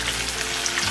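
Besan-coated Lahori-style fish sizzles steadily in very hot oil over a low flame, a dense, continuous crackle close by with no voices.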